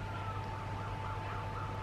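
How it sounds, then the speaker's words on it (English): Distant emergency vehicle sirens wailing faintly over a low steady background hum, the rising and falling tones drifting along continuously from a nearby main road in Australia. "there's a lot of sirens around"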